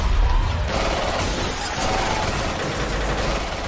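Rapid bursts of gunfire from an action film crackle in dense succession, loud and sustained, like several weapons firing at once.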